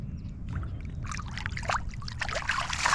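A caught bass is let go back into an urban pond, with close water sloshing and splashing in several bursts that grow a little louder toward the end, and no talking.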